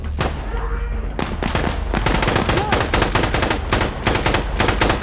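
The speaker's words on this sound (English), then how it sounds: "I just emptied a mag on this dude." Sustained automatic gunfire in Insurgency: Sandstorm as a full magazine is emptied, loud rapid bursts of shots hammering almost continuously for several seconds, close and dense.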